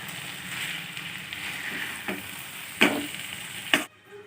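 Prawns sautéing in a spiced pointed gourd curry sizzle steadily up close, with a few sharp stirring scrapes near the end before the sound cuts off abruptly.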